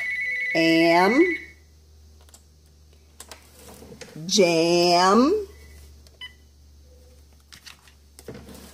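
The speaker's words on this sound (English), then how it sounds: "Sorry about the phone." A phone's electronic beep sounds as one short steady tone beneath a spoken word near the start, followed by scattered faint clicks and taps while a voice slowly says single words during a phonics lesson.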